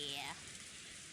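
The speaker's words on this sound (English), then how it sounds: "The rain is really loud." Steady rain hiss from the Umineko visual novel, heard as if indoors during a typhoon, continuing after a brief tonal chime at the start fades out; no voices.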